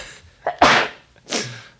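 A close, sharp sneeze erupts as a quick intake and forceful burst, followed by a second shorter sneeze a moment later in an otherwise quiet room.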